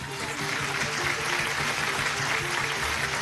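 A crowd applauds Venezuelan Olympic medallists welcomed home at Maiquetía, a steady dense wash of clapping throughout.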